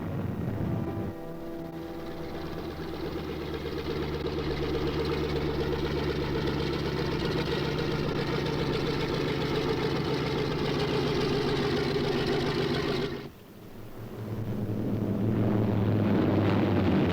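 B-26 bomber engines drone steadily and loudly with a rough, throbbing mid and low tone, briefly dipping near the end before surging back, no voices.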